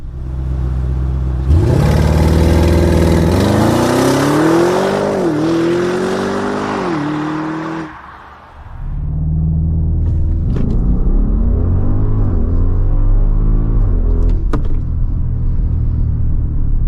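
A 600 hp 2023 Audi RSQ8 launches hard from a standstill toward 292 km/h, its engine roaring loud and close through rising gears with shifts audible. A brief drop follows before another long, strong pull.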